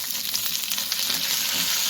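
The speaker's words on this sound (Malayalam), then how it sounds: "കടുക് പൊട്ടിയിട്ടുണ്ട്." Mustard seeds crackle and pop in hot oil alongside cardamom, cinnamon and chili pieces for egg rice, a dense, close, continuous sizzle without talk.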